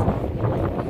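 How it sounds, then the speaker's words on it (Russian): Wind buffets the microphone with a low, steady rumbling roar and soft gusty pulses throughout. "Ветрено, но красиво."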